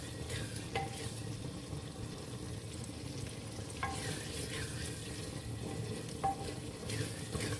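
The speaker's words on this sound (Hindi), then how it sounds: "हरी मिर्च का पेस्ट। इसे हम अच्छा सा भून लेंगे साथ।" Steady sizzling of green chilli spice paste frying in a pan for a garlic almond soup, with occasional scrapes and clicks of a utensil stirring, continuous throughout with no talking.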